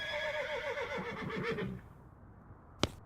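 A horse in the video game West of Loathing gives a single bright whinny with a quavering, descending neigh, loud and clear, followed by near silence and a sharp click.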